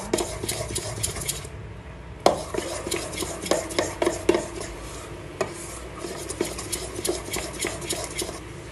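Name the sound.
stirring food mixture in a bowl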